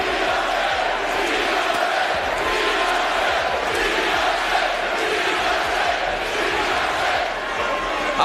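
A boxing arena crowd at a heavyweight fight in Birmingham cheers and roars continuously, a dense, loud wall of voices holding steady throughout without pause.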